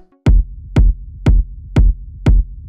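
Five punchy techno kick drums hit at an even, steady tempo, each followed by a deep, sustained sub-bass rumble between the hits.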